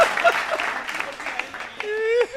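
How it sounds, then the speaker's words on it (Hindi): A crowd claps in a dense burst of applause at a live poetry recital, fading as a voice rises over it. "पीछे के लोग फिर तालियां बजा"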